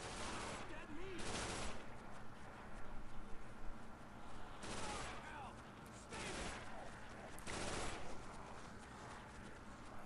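Rapid bursts of automatic turret gunfire shred crawler zombies on the Magnus map with the UGX mod, loud and continuous with repeated volleys across the whole stretch, layered over game mayhem.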